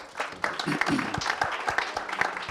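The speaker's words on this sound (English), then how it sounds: "Give Robert a round of applause." An audience at a charity mile draw claps in a brief round of applause, with distinct claps rising and thinning, while a voice keeps talking over it.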